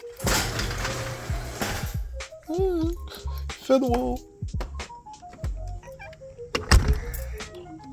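A rust-damaged Mazda 3's car door shuts with a solid thunk late in the clip, after rustling, clicks and bursts of children's and adult voices nearby.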